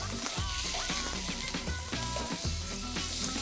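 Meatballs fry in a pan for a sweet and sour dish, giving a continuous loud sizzle with crackles and the scrape of stirring as they are tossed around.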